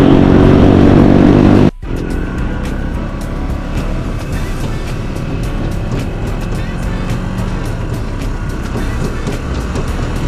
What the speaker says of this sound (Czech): Tady sjíždíme s ostatníma motorkářema, očividně.